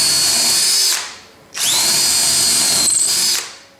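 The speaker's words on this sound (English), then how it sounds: "we're simply going to drill 4 holes equally spaced along" A power drill bores holes through stacked pieces of timber, two loud high whining bursts separated by a brief pause as the motor spins down and restarts, close and alone.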